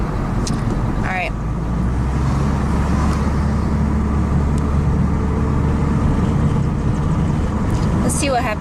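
A car drives along a road, heard from inside as a steady, loud engine and tyre rumble, with brief faint higher sounds near the start and end.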